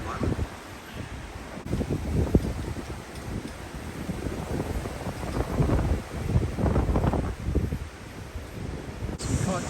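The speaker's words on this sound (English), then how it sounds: "There's some strong gusts coming through." Strong wind gusts buffeting the microphone on a coastal waterfront, a rumbling, rustling roar that swells and eases, with a person talking over it.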